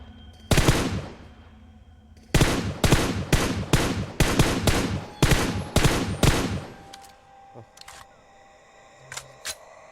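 Gunfire in a video game, with a single loud shot followed by a rhythmic run of about eight sharp, close bursts, then quieter scattered clicks.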